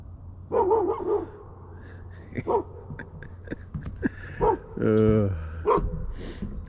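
A farm dog gives several short barks in bursts near a pond on rural acreage while someone shouts urging commands over it, voices and barks alternating.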